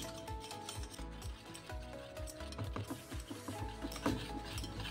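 Coriander vadi batter is beaten in a bowl with rapid, continuous scraping and stirring. The sound is close and fairly faint, with layered rattly textures and no voices.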